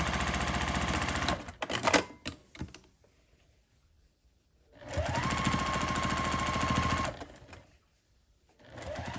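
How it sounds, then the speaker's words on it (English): A sewing machine stitches binding onto quilted patchwork placemats in two loud, steady runs, the first broken by short clatters and pauses, the second starting at about five seconds and running two seconds, then quiet before it starts again. "I'm just machine binding these like I would machine bind a quilt"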